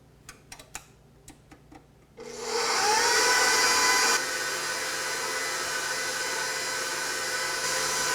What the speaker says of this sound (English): As the eggs and sugar are beating, we're going to increase the speed very slowly